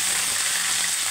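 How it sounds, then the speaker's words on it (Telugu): Dry red chillies, asafoetida and curry leaves sizzle in hot oil for a cucumber chutney tempering, a bright, constant, close frying hiss with no voices. "తాలింపు అయితే వేగిందండి"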